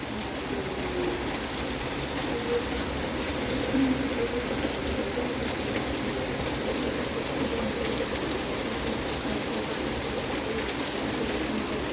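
Steady, heavy rain pours down continuously beside a balcony, a dense hiss of drops on surfaces close by with no break.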